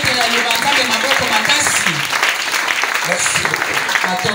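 A church congregation cheers and applauds loudly, dense clapping mixed with shouting voices and whoops filling the space continuously.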